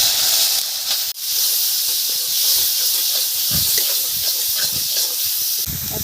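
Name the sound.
thankuni leaf paste frying in hot oil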